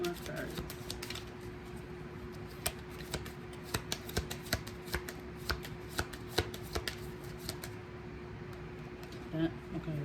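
Tarot cards shuffled and flicked during a reading, with soft riffling and crisp snaps at irregular intervals close by, under a quiet hum and faint background voice.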